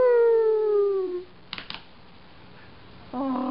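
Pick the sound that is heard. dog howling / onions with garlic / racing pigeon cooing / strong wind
dog howling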